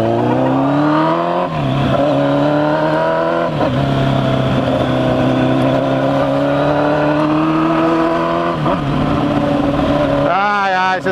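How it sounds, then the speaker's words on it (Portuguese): A car approaches and drives past, its steady loud engine drone rising and shifting in pitch over several seconds, with brief gear changes and a closing sweep as it passes close by. "esse carro já vem"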